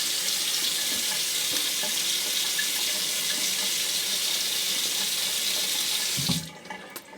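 Hot water gushing steadily from a tap into a sink for wet shaving with a cartridge razor, loud and continuous, then abruptly shutting off near the end with a few faint drips and handling clicks.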